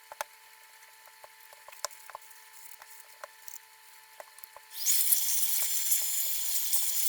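Faint scattered ticks give way to a loud, steady rushing hiss as an air blower cleans the gap between the cone and basket of a 1936 Clarville C5 radio loudspeaker.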